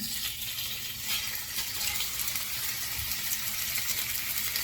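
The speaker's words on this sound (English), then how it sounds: "So now we're gonna add this chicken in." Steady, crackling sizzle of chicken frying in hot oil, close and continuous with no voices.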